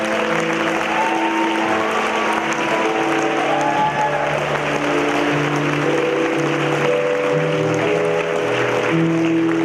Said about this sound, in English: Let's give a big round of applause, folks.